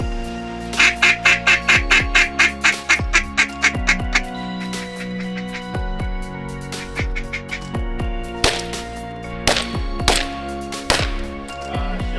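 Ducks quack in flooded timber during a Louisiana waterfowl hunt, starting with a rapid run of about a dozen loud, rhythmic quacks, then scattered sharp, close calls over a constant background.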